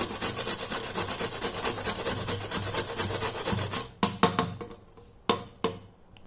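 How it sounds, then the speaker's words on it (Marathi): Peeled raw mangoes rubbed steadily on a grater for chutney, a close, continuous rhythmic rasping that then stops, followed by several sharp knocks and taps. "तीनही कैरींची मी साल काढून घेतली आणि कैरीला ना आता किसून घ्यायचं।"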